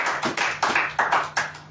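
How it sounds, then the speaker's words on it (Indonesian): Church congregation clapping hands in unison, a steady rhythm of about eight sharp claps in under two seconds, close and fairly loud with a faint hum beneath. "Beri tepuk tangan yang meriah buat Tuhan."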